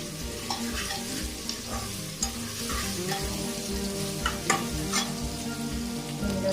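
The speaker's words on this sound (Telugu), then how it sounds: "తొందరగా మగ్గుతాయి ఉల్లిగడ్డలు." Onions fry in a pan for a mutton leg paya curry, crackling in a steady sizzle while a spoon scrapes and stirs them in regular strokes, close and continuous, with no voices.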